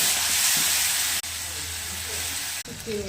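Mashed elephant-ear taro leaf paste hits hot mustard oil tempered with dried red chilli and nigella seeds, giving a bright continuous sizzle with brief stirring scrapes and two sharp cuts in the sound.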